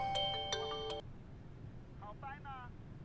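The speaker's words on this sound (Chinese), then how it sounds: "老董给我打电话了" A mobile phone ringtone for an incoming call plays a bright, clean electronic melody of a few sharp notes, then stops, followed by fainter chirping tones in a quiet room.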